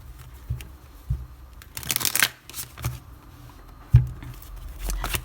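Tarot and oracle cards are shuffled by hand in quick rustling bursts and soft riffling flicks, close and fairly quiet, with short pauses between passes.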